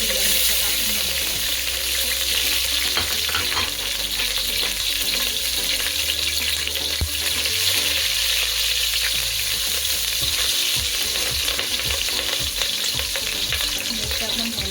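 Green chillies frying in hot oil for Marathi-style mutton dum biryani, a steady, loud, close sizzle and crackle that runs without a break, with soft stirring clatter underneath.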